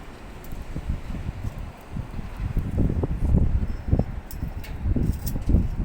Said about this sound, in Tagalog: Hindi naman sobrang strong ang hangin